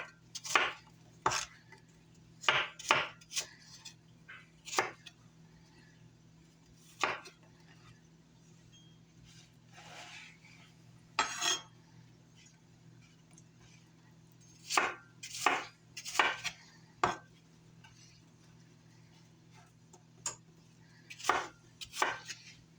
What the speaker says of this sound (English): now I'm just gonna cut them up into bite-sized pieces